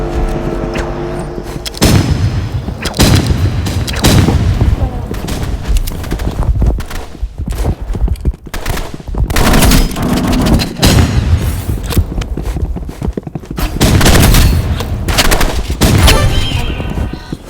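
Rifle gunfire in a shooter video game, with loud repeated shots in irregular bursts spread across the clip, some dense volleys and echoing booms, with no speech.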